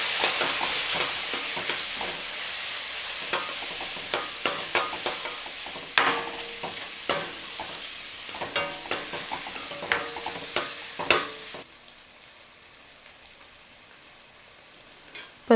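Kuzhambu masala with homemade chilli powder is stirred and sautéed in a pan for paruppu urundai kuzhambu, with quick repeated scraping and tapping strokes over a soft sizzle. The stirring then thins out and quiets.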